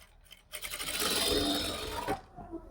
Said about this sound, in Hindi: यहाँ से 1 इंच तक आप बिल्कुल सीधी सिलाई लगाएंगे